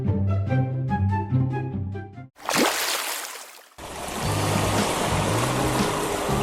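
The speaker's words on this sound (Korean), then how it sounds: "가끔 가다 한 번씩 아주 세게 치는 파도가 드물게 있긴 하죠" A heavy ocean wave crashes in a sudden loud burst of surging water, cutting off light music and fading into a steady wash of churning surf.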